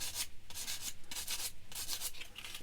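A small sander rubs a Tamiya Honda NSR500 scale model part in quick, rhythmic back-and-forth strokes, soft, close and steady with no voices.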